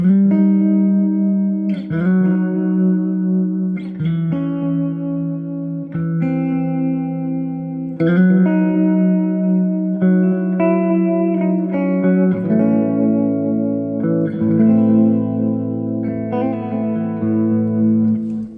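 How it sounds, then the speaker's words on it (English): Electric guitar chords and single notes ring out with trailing echoes repeating behind each strum, a smooth delay effect, no talking. "But you can get some really nice normal delay sounds out of it too."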